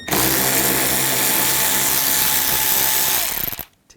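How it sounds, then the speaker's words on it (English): Power tool driving out screws with a T25 socket from the inner fender well of a 2011-2018 Volkswagen Jetta, a loud steady whir running close for about three and a half seconds before cutting off abruptly. "Now on the inner fender wells, we're going to take these screws out."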